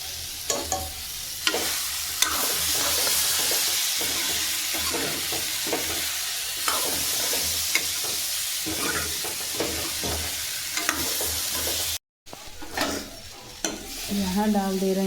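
Vegetables and new rice cooking together in a pot on a gas stove for khichdi, a loud steady sizzle with scattered stirring clatter, briefly cutting out near the end before resuming.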